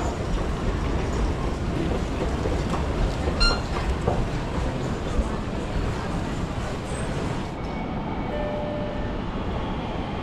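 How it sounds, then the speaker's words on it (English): An airport transit train at London Heathrow rumbles steadily and departs, with broadband rail noise under an automated announcement voice. "Please hold on. Transit is departing. Next stop, gates C52 to C66."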